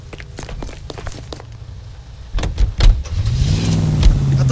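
A car in the video game LA Noire: footsteps and a door shutting, then the engine starts and revs up into steady driving, loud and close.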